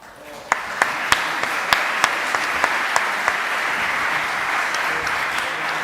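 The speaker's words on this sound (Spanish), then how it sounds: "Damos un fuerte aplauso entonces a las palabras de María Corina." An audience applauds María Corina Machado's remarks at a panel on cultural populism, with steady, moderate clapping and a few sharp, distinct claps standing out near the front.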